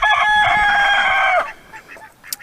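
A quail rooster kept on a homestead crows once, a loud, close, buzzy call held for about a second and a half, then falls quiet with faint background noise.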